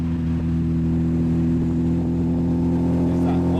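An Austin Healey 100/6 sports car engine drones steadily through its exhaust while driving, a constant low, even hum heard from inside the car with a faint voice beneath.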